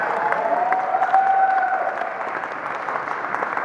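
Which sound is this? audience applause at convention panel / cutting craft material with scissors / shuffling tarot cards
audience applause at convention panel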